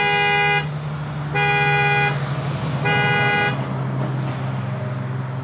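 The horn of a 2018 Honda Accord Sport, set off by the key fob panic button, blares in three loud, evenly spaced blasts, each about three-quarters of a second long, with brief gaps between them and a steady engine hum underneath.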